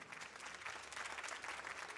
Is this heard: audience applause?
yes